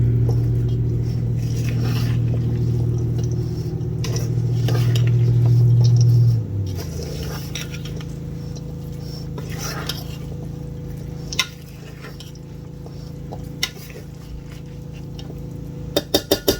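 A spoon mixes apple chickpea salad in a large bowl. A steady low hum fades out, then soft scrapes and scattered clinks of spoon on bowl follow, ending in a quick series of taps.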